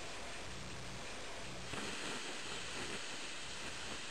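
Gas escaping from the nozzle of a cheap portable gas cooker, a steady, faint broadband hiss that holds level throughout with no voices.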